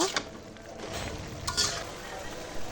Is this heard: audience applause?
no